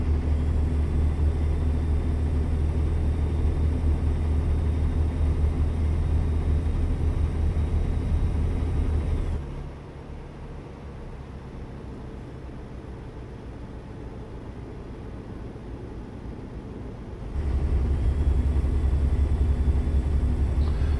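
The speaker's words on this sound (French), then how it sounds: "L'impression que ce moteur tourne pas rond" In the video game American Truck Simulator, a truck engine running rough drones steadily, dropping to a lower, duller rumble for several seconds before returning to its full roar.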